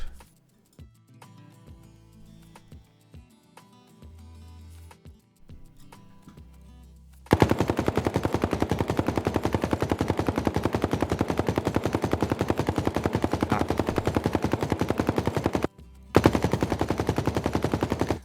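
Rapid MetaSounds-synthesized automatic gunfire that changes with distance, loud and sustained in a fast steady rhythm, briefly stopping before resuming; quieter scattered shots and clicks come first.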